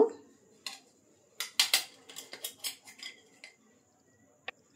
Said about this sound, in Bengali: তো এবার আমি পেঁয়াজগুলো এর মধ্যে ঢেলে দেব